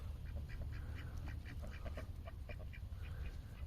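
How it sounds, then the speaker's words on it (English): Ducks on a Florida farm quack near a lake in a rapid, irregular series of short calls. The calls sound faint and slightly distant over a low steady background rumble, with no talking. "Now their ducks are going back into the lake."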